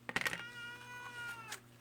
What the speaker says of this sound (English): That's my cat crying in the background.